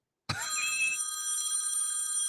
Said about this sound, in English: You want to know what my ringtone is? Sure. I'm gonna play this for everybody.